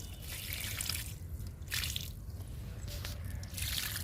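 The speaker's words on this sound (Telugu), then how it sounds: "పూలతో చామంతికి లిక్విడ్ ఇస్తున్నాను" Liquid fertilizer made from green grass soaked in water is poured onto potted chrysanthemum plants, a continuous splashing trickle with dripping, close and fairly loud throughout.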